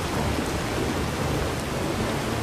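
Steady rain pours in the video game Enderal, a dense, even hiss of falling drops with a low rumble underneath, continuous and fairly loud throughout with no voices.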